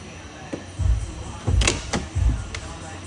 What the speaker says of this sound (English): and then I'm gonna open the door.